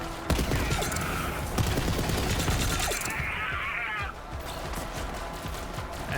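Sustained gunfire from the shooter game Borderlands 3, dense and continuous with a loud rattling texture, easing slightly near the end.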